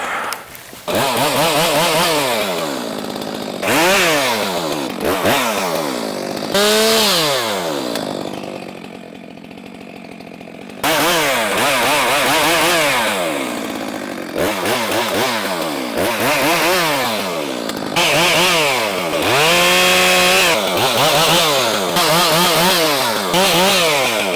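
A chainsaw cuts up a wind-blown oak tree, its engine loud and close, rising into long strained cutting passes. It briefly drops to a lower idle mid-way, then revs and bites into the wood again.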